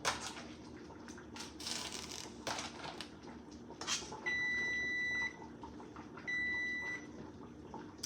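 A kitchen timer beeps in two long, steady electronic tones, each lasting about a second, amid soft clatter while seafood gumbo with crab legs is being cooked.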